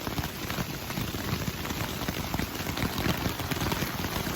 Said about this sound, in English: it's been raining mostly all night long